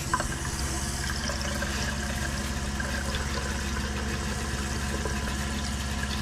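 Water running from the bathroom sink faucet of a Salem Cruise Lite 171 RBXL RV during de-winterizing, a steady close gush with a low pump hum beneath, continuous and unbroken.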